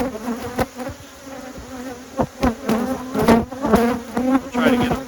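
Bees buzzing around an opened hive, a close, dense droning hum with sharp louder swells as individual bees fly past near the ear, no talking.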